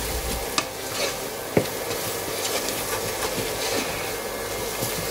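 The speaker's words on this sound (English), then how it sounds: "Mix it well." A spoon scrapes and clacks through spiced masala with garam masala, turmeric and chili powder in a pan, with a few sharp knocks over a soft background sizzle; fairly quiet and close, no talk.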